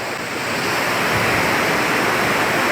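Curug Cibereum, a waterfall with two falls and strong flow, roars as a dense, continuous wash of white noise, loud and close, with no talk until it cuts off abruptly.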